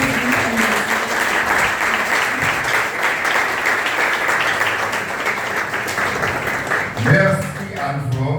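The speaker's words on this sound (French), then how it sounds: "Nous vous invitons à l'applaudir chaleureusement en reconnaissance de son œuvre remarquable" An audience at a French-language tribute event applauds warmly, a dense sustained burst of clapping that holds steady, then thins out as a voice begins speaking near the end.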